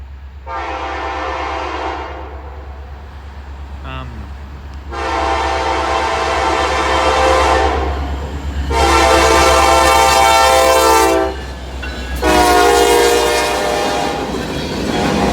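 Norfolk Southern freight train with an AC locomotive leading sounds its horn in several long, loud blasts close by, over a steady low rumble of the moving train.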